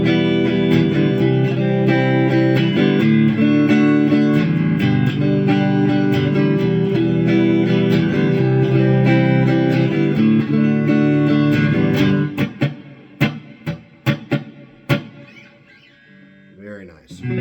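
Telecaster kit guitar played through an Egnater Rebel 20 amp on the clean channel, ringing strummed chords that sustain for about twelve seconds, then give way to sparse single picked notes and pauses.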